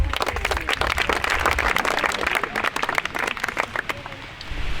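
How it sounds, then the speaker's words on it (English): Applause at a Beat the Pro golf challenge during the Omega European Masters, with a crowd clapping briskly and continuously for several seconds and voices talking over it. "So come on Kim Lou, bit of applause please."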